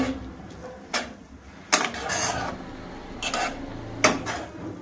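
Banana flower (mocha) cooking in a pot, heard as a few sharp metallic clanks and scrapes of utensil on pot, spaced irregularly over a low steady background.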